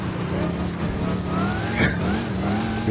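A car engine drones and revs continuously in the racing game Gran Turismo 5, with pitch sweeps and a brief tire squeal partway through, loud and close throughout.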